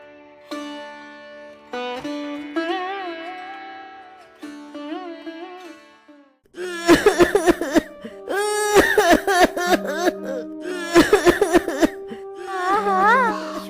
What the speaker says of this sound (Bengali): স্বামীর কাশিটা আজ আবার বেড়েছে